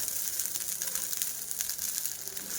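A rice flour dosa, just flipped, sizzles on a hot pan with a steady, close hiss.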